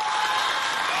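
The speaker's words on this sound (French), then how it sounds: "Applaudissez bien fort pour vous." A large crowd at an outdoor anniversary celebration of the Republic of Chad cheers and applauds in a steady, dense wash of sound, loud and continuous with no pauses.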